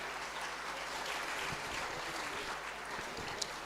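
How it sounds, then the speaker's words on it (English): An audience at a memorial day event for the Marudhu brothers gives a sustained, fairly faint round of applause after a speech, an even crackling wash of clapping with no talk over it. "Please give him a big round of applause."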